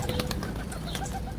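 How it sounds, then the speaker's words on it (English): Pigeons cooing inside a crowded loft of tiplet and homer pigeons, soft throaty coos repeating close by over a dense, busy background. "there's too many birds up here"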